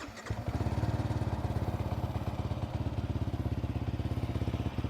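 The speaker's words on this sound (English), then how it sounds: "You already can hear the soft bassy noise of the exhaust." A Yamaha R15M motorcycle, a custom 183cc build with an aftermarket exhaust, starts up and settles into a steady, deep, bassy idle with a fast regular pulse, loud and close, with no talk.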